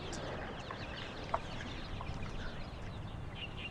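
Chickens on a village farm clucking softly: faint scattered clucks and brief calls over a low, steady background hum, distant and quiet, with no talk.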